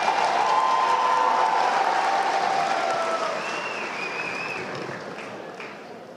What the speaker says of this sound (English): And yes, you can applaud for that as well.